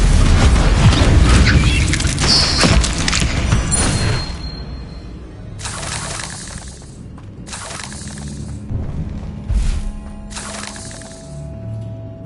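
Bombarda exploding spell in Hogwarts Legacy, a loud booming blast with shattering debris at the outset, followed by several shorter crashing bursts spaced a second or two apart.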